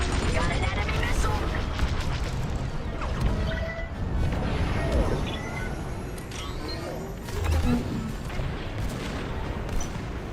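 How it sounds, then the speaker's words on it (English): Enemy missile explosions in the video game Marvel Rivals, a dense run of loud booms and crashing blasts layered with game effects, continuous and close throughout. "Got an enemy missile."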